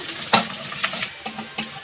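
Food frying in a pan, a soft continuous sizzle with several sharp crackles and stirring clicks spaced irregularly across a short moment, no talk.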